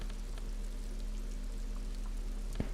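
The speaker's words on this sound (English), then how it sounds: "This rain will not let up anytime soon." Steady rainfall in the video game Disco Elysium, a soft continuous patter with a low constant hum beneath and one brief sharp tap near the end.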